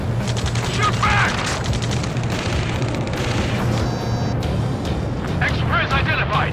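Gunfire in Ace Combat 7 during a ground rescue near a space elevator: repeated booming shots and rattling bursts run throughout, mixed with loud shouted radio chatter from soldiers pinned down.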